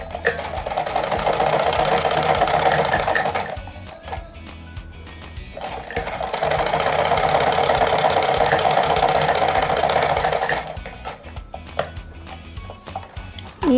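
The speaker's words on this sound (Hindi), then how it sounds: "अब हम इस पर लगाएंगे यहाँ पर सिलाई" An electric sewing machine stitches through layered cotton and velvet fabric for a small decorative lehenga chunri, running close and loud in two long whirring bursts separated by a brief pause.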